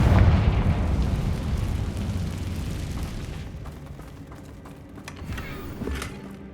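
A Confringo blasting spell explodes in the video game Hogwarts Legacy: a loud, close boom at the start that rumbles and fades over several seconds, with smaller pops and crackles trailing afterward.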